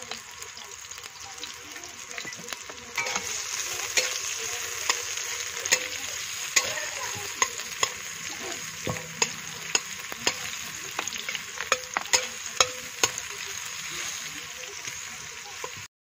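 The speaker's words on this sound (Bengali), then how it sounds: "পেঁয়াজটা ভাজা হবে না," Onions frying in oil for biryani give a close, steady sizzle, with regular sharp clicks and scrapes from stirring throughout.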